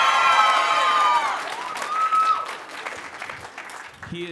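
A school fall choir concert audience claps and cheers for the piano accompanist, a dense burst of applause that fades out gradually while a voice speaks over it near the start.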